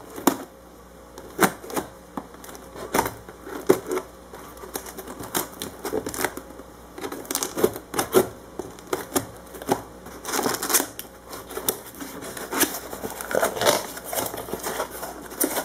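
A cardboard box holding succulent plants is opened up close, with irregular crinkling, tearing and tapping clicks scattered through a quiet room and no talking.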